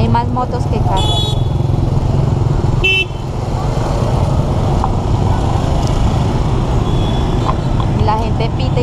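Busy road traffic in Hanoi, Vietnam, dominated by motorcycle engines droning close by, with brief horn toots and people talking over the noise.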